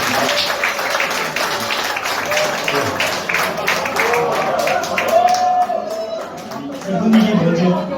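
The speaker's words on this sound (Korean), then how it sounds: "큰 박수 부탁드리겠습니다" Clapping from the audience at a regional party members' meeting, loud and fairly close, blended with crowd chatter and voices talking throughout.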